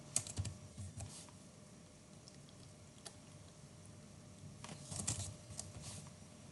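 Quiet keystrokes tap on a computer keyboard, a few scattered clicks near the start and a small burst toward the end, soft and close against a faint background hum.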